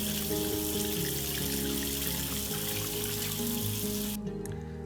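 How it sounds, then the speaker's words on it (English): Water pours steadily into a soup pot, about one liter, with a continuous splashing rush, close and moderately loud, stopping abruptly near the end. "so I'm adding 1 liter of water to it."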